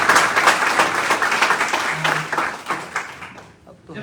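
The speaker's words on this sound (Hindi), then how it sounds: "आप सबके लिए जोरदार ताली।" Audience applause at a crowded Hindi-language business gathering, a dense steady clapping wash lasting about three and a half seconds before fading out, with a voice briefly audible underneath.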